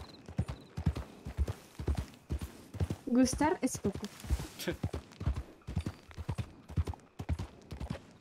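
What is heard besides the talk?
horse hooves clip-clopping in the video game RedM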